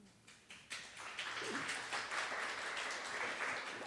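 Finger snaps and scattered light clapping in agreement from an audience at a community forum on culture and race, a run of sharp crisp clicks that thickens into a steady patter close by.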